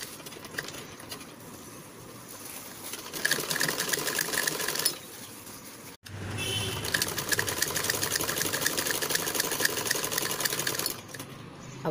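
Sewing machine stitching a blouse, running in a steady mechanical whir at close range with a short pause midway before resuming, no talking over it.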